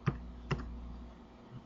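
Two sharp, close key clicks on a computer keyboard while a database command is typed, followed by a quiet pause with no talk.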